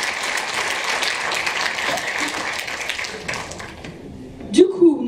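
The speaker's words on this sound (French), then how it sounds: "Vous pouvez l'applaudir." An audience at a film festival's closing award ceremony claps in a dense, sustained round that fades out near the end, followed by a short burst of speech.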